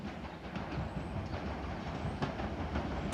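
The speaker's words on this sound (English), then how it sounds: "approaching and now is the heavily delayed 1147 Southeastern service from London Charing Cross to Dover Priory" A Southeastern train from London Charing Cross to Dover Priory approaches Tonbridge station on the South Eastern Main Line, a steady rumbling roar with faint clatter from the wagons under continuous broadband noise.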